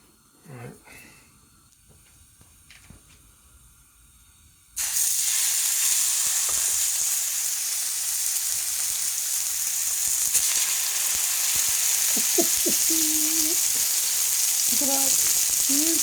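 A steak hits a smoking-hot oiled skillet and a loud, steady sizzle bursts in suddenly, holding a dense hiss throughout, with brief voice sounds near the end.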